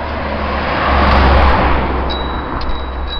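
A car passes close by on a road, a loud broadband rush that swells and fades over a few seconds, with faint beeps near the end and no talk.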